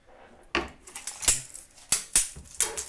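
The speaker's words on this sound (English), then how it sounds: "I'm actually going to trim off the tail of this neck" Sharp, irregular knocks and clicks from trimming the tail off a wooden cigar box guitar neck, several close strikes spread unevenly with quiet gaps between them.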